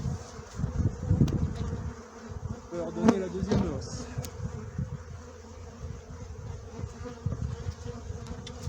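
Honey bees hum steadily around an open beehive during a honey super inspection, a continuous near drone with someone speaking French over it at times.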